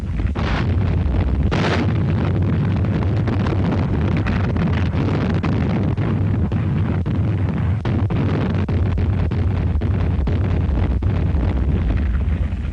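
Allied warships lay down a naval bombardment ahead of the Borneo invasion, a dense, continuous roar of heavy gunfire and blasts with sharper bursts early on, loud and sustained throughout.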